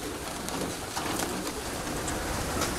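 Pigeons or doves coo steadily among other birds, a dense continuous chorus at moderate distance with no talk over it.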